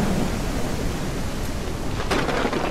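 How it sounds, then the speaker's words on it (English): Thunderstorm with steady rain in the zombie survival game No One Survived, a constant broad wash of rainfall with a brief rumbling swell near the end. "how would zombies track you in the rain? In a thunderstorm?"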